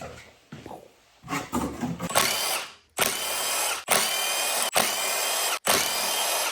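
An impact gun works on the clutch spring screws of a hard enduro two-stroke motorcycle, firing five loud, close whirring bursts in quick succession after some quieter clicks and handling.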